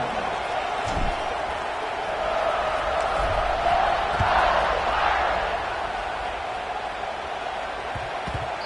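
Broad, steady crowd roar at a stadium during a kickoff in the College Football 26 video game, a constant wash of cheering that swells slightly mid-way, heard alone without clear talk.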